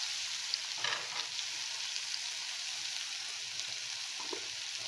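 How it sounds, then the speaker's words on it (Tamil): Grated raw mango sautéing in a pan for a Navaratri offering, a steady close sizzle and fry with soft stirring scrapes running throughout, no voices. "2 நிமிஷம் இதை பச்சை ஸ்மெல் போக வதக்கிக்கலாம்."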